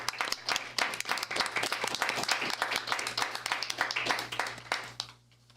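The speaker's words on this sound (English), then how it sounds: "Certainly think that appreciate deserves a round of applause." An audience at a city council meeting gives a round of applause, a modest group of distinct hand claps at close range that keeps up evenly before stopping abruptly near the end.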